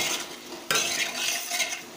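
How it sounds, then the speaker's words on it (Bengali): A soybean and potato curry is sautéed and stirred in a pan, a close, continuous scraping and sizzling texture that picks up sharply after a brief quieter start. "এই যে সয়াবিনের তরকারি একটু কষিয়ে নিলাম"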